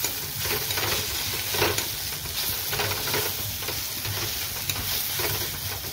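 Egg fries with tomato, ginger and garlic in a pan for a Torka recipe, giving a steady, close sizzle with repeated scraping stirs throughout and no talking.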